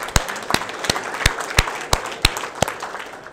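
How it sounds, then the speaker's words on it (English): A seminar audience at an investing talk claps, with about nine sharp, evenly spaced claps standing out clearly above a softer background of scattered clapping. "And give yourselves a round of applause."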